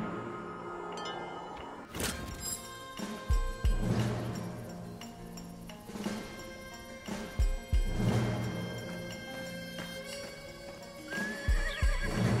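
Horses in the Western video game Desperados 3 give repeated loud whinnies, mixed with heavy hoof thuds and clopping at uneven intervals, close by.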